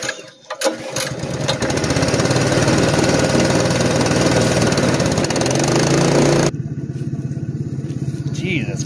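The engine of a 1976 Chevy LUV 4x4 with a stuck carburetor float runs loud and rough close by, a steady idling chug that drops in level near the end.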